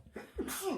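A single short sneeze, close and fairly quiet, with a quick breathy intake before a sharp burst, during a tabletop Transformers skirmish game.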